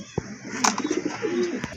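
Several pigeons coo in a collection of breeding pigeons with eggs and chicks, a soft repeated burbling close by, with a brief sharper bird call in between.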